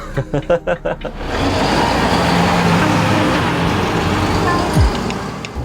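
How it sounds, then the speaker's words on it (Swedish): A Volvo 9700 DD double-decker bus engine idles and then pulls away, a steady loud diesel drone with low rumble close by, preceded by a few clicks and knocks. "Motorn är igång. Nu rullar vi."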